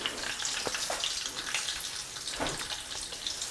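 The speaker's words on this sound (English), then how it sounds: "Look at that bacon cooking." Bacon frying in a pan, a steady close crackling sizzle with scattered pops throughout.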